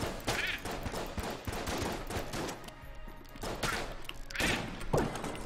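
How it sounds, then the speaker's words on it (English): Rapid bursts of gunfire and blasts from Enter the Gungeon, dense and continuous, with several louder booms standing out over the clatter. "Explosions! More explosions!"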